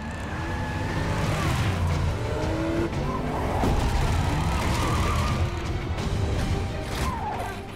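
Vehicles roar through a chaotic action scene in the video game Metal Gear Rising, with loud continuous engine noise, tire squeals and skids, and a distant siren, all sustained at high level without speech.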